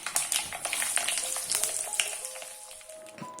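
Mustard seeds and halved garlic cloves sizzle and crackle in hot oil while mango pickle is being made. The close frying is dense and irregular with small sharp pops, and there is no talking.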